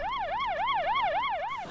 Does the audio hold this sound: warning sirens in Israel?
yes